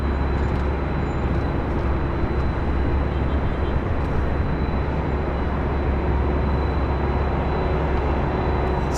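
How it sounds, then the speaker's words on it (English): A Delta 767 jet airliner at LAX roars steadily as a broad, dense rumble with a thin high whine on top, loud and unbroken throughout with no distinct peaks. "As you can hear, we have a Delta 767 heading to 24 left."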